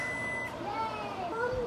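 A microwave warming milk gives a few short electronic beeps against light background noise and faint voices.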